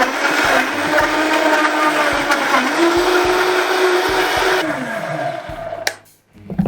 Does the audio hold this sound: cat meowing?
no